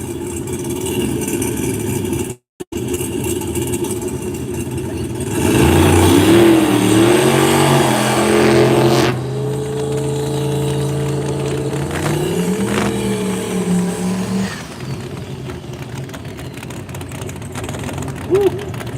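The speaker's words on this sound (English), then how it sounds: "Neither one of those cars wanted to do much of burnout." G-Body race cars rev and roar loudly during burnouts, rising and falling in pitch over a steady idle, with crowd noise in the background.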